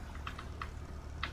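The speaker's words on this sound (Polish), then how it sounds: "Może słychać moją klawiaturę w tle" Soft keyboard typing: a few scattered clicks and key presses against a low steady background hum, with no talking.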